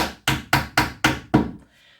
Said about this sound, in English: you come along with a hammer, very delicately, of course, and just tap her in